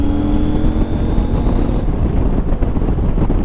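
A CFMOTO 800MT touring motorcycle engine runs with a loud, steady low rumble, close by and mixed with buffeting wind noise.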